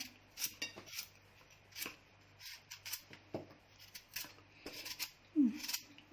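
Raw vegetable for som tam being cut by hand, giving a string of crisp, close, snappy crunches and clicks at an irregular pace, with no talking.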